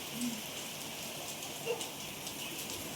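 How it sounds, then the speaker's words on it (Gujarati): Heavy rain pours down in a windstorm, a steady dense hiss of drops drumming on surfaces with no pauses and no voices. "જો કેટલી તેજ રફતારથી બારીશ આવી રહી છે"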